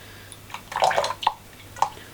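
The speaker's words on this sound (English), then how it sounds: "I'm just going to give this a bit of a rinse out so we're not cross-contaminating our flavours here" A glass is rinsed out with water while distilling American whiskey, giving a few soft splashes and drips with clinks, close and fairly quiet, with no talking.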